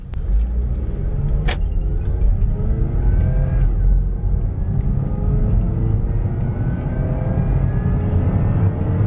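A 2014 Honda Civic 2.0 LXR accelerates hard in a 0 to 100 run, its engine note rising steadily over heavy road and wind rumble. The sound is loud and continuous throughout.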